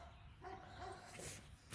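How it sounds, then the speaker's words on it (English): A neighbor's dog barks excitedly at chickens in a backyard, faint and distant yaps over outdoor background noise. "Oh, there goes his dog going nuts."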